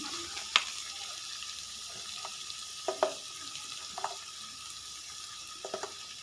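Chicken frying in a pan, a steady close hiss with a few sharp clinks and scrapes from stirring, no voices.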